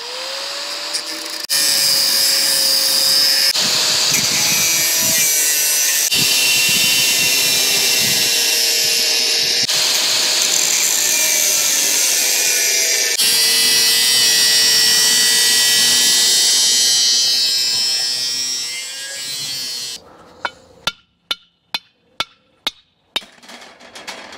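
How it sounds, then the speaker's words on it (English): A Makita power tool saws a finned part in two: a loud, steady, whining cut with a wavering pitch runs for about twenty seconds, then stops and gives way to a series of sharp, separate knocks. "have you ever wanted to take a Makita to it and cut it in two?"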